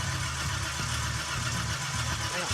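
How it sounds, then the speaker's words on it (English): A Chevrolet Bel Air engine turns over and runs with a steady low rumble. The sound is close and continuous, with slight shifts in pitch during restoration testing. "We got gas, we got spark, we should have a running engine."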